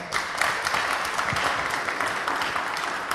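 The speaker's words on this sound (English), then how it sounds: "Please give her a warm applause." An audience at the Friday opening of a #HackMyRide event applauds, a dense, steady burst of clapping from many hands throughout the room.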